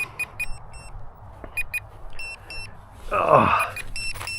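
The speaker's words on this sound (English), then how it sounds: "I think that's my battery's low alarm" A Volantex 500mm P-51D RC plane sounds its low battery alarm in repeated short, high beeps in an even pattern, with a brief noisy burst partway through.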